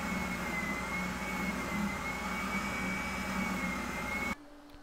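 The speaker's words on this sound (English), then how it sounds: "I just use an oscillating spindle sander to remove that" An oscillating spindle sander grinds epoxy off the edge of a monoski, giving a steady droning hum with a high whine, close and continuous, then cutting off abruptly at the end.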